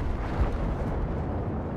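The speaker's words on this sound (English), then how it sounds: "the silence is what happens before the explosion." A V-1 rocket explodes in the Second World War shooter Battlefield V, heard as a loud, continuous deep roaring rumble with a broad noisy wash that holds steady for under two seconds, with no voices.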